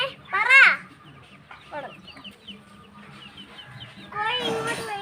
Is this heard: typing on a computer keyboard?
no